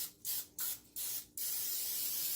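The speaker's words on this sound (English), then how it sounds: "So we're just going to generously spray that so it doesn't stick." Cooking spray from an aerosol can is sprayed onto a pan in four short hissing bursts, then one longer continuous spray, close and loud with no talking.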